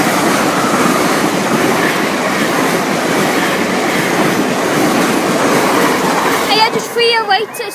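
A Great Western Railway service to Stoke Gifford rumbles past on the South Wales Main Line at Pontsarn, a loud steady roar with rhythmic wheel clatter, fading at the end under brief voices.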